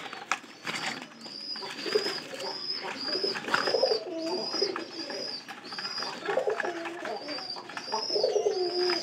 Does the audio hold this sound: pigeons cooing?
yes